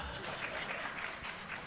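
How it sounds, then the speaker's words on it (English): A talk-show studio audience applauds in a steady, dense wash of clapping that fills the whole moment, close and continuous without pause. "applaud if you think it's 2"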